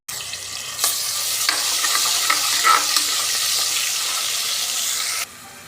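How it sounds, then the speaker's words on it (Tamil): Spices, curry leaves and ginger garlic paste sizzling in hot oil for a biryani, a bright steady frying hiss with occasional spoon scrapes and clinks against the pan, close and unbroken until it cuts off abruptly near the end. "இது நல்லா வதக்கி விட்டுக்கலாம்."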